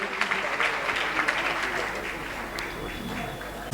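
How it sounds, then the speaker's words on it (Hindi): Strong audience clapping at a diksha day celebration greets school children about to perform, a dense, continuous patter of hands, with some voices mixed into the crowd noise. "एक बार जोरदार तालियों से बच्चों का उत्साहवर्धन कीजिए"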